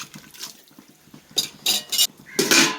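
Metal pot lid set down on a pot of brinjal sambar with small onions, giving a few clattering clinks of metal cookware, the loudest bursts near the end, with no talking.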